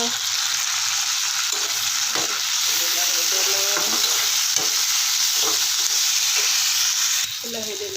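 Chopped onions, green chillies and tomatoes fry loudly in a pan, giving a constant close sizzle with repeated scraping stirs of a spoon. The sound holds steady for several seconds and eases slightly at the end, with no one speaking.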